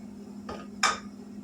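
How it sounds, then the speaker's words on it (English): Milk and sugar tipped into a small heavy-bottomed pot: two quick clinks of utensil against metal, the second sharper and louder, over a low steady hum in a quiet kitchen. "To this little heavy bottom pot, we are going to put in 2 cups of milk, 3/4 cup of sugar"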